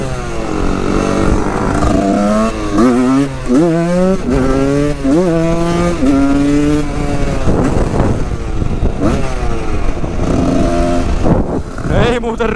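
A Husqvarna motorcycle engine revs up and down repeatedly during a test ride, loud and close, with rising and falling pitch sweeps and no talk over it.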